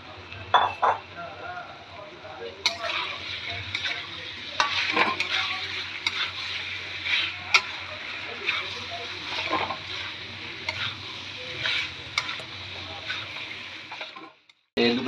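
Paneer sautéing in a pan gives a steady close sizzle with frequent stirring scrapes and light clinks of a utensil against the metal, ending in a sudden brief silence.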